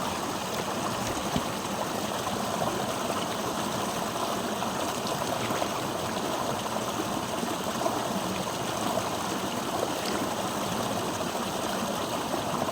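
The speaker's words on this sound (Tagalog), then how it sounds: "lakas ng tubig, oh." Strong, steady rush of flowing water fills the whole stretch, loud and close, with no voices over it.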